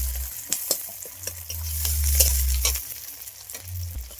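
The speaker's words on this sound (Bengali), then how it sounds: "পেঁয়াজ রসুন কাঁচা লঙ্কাটা হালকা ভাজা হয়ে গেছে" Onion, garlic and green chilli frying in mustard oil crackle loudly up close, with sharp spatters and spoon scrapes over a low rumbling hum that swells and fades.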